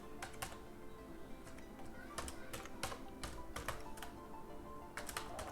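Code being typed on a computer keyboard, clusters of quick, faint clicking keystrokes in irregular bursts with pauses between.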